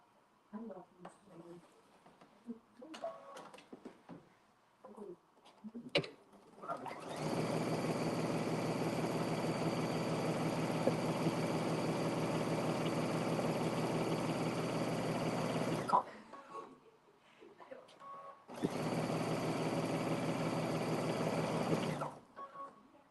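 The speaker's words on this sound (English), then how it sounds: "now we're going to be sewing the next short panel onto the other side of the long panel" A sewing machine runs in a long steady burst, stitching a short skirt panel onto a long panel for a bubble skirt, then stops briefly and whirs again. Quiet handling noises come before it starts.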